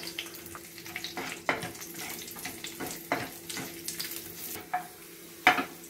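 Halved black raisins frying in a pan while preparing Onam mixed fruit payasam, a soft close sizzle punctuated by irregular scraping stirs and light clinks, with no voices.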